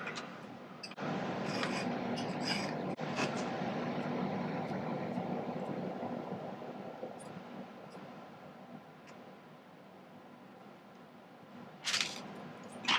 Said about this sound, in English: I did a little initial filing so I wouldn't be filing for 5 minutes while you watched